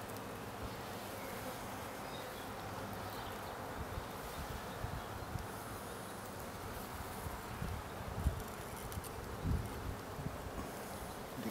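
Honeybee colony in a hive being opened and inspected, a dense, steady buzzing drone of many bees heard up close, with occasional soft knocks and rustles from the frames.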